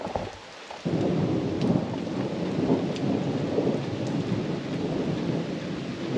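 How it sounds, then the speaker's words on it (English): Heavy rain pours steadily with a deep rumble of thunder rolling underneath, continuous and fairly close, with no voices. "More thunder and lightning."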